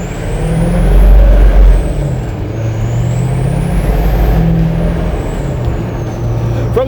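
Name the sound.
6.6 Duramax diesel truck with KC Stage 1 turbo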